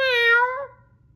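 A single clear cat meow, close and fairly loud, rising then trailing off within about a second.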